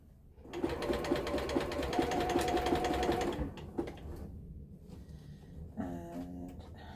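A sewing machine runs in a fast, steady burst of stitching through cushion fabric at a 2.5 stitch length, close and loud for about three seconds, then stops, leaving quieter handling noises and a short whirring restart.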